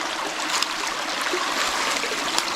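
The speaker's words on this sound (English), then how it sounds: "just a nice little creek here" A small creek flows steadily nearby at a remote overnight campsite, a continuous broadband rush and trickle of water without any voices.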